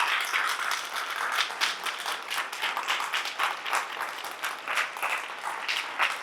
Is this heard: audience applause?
yes